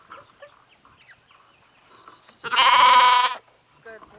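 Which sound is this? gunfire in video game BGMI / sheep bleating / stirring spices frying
sheep bleating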